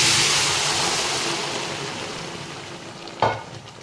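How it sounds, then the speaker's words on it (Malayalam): Buffalo meat for curry dropping into a hot pan, a loud sizzle that fades gradually, then a sharp clatter of stirring near the end. "ഇനി നമുക്കിതിലോട്ട് പോത്ത് ചേർക്കാം."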